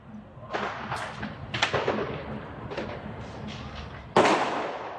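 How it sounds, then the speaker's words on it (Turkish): Fireworks burst in a series of sharp booms and crackles, several spaced explosions at a moderate distance with a loud final blast near the end. "Havai fişek."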